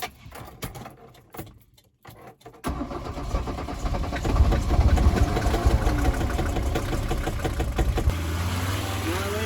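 An old Mercedes car engine, troubled by stale fuel, cranks and catches, then roars steadily at full throttle while driving uphill, loud and close with a constant droning rumble.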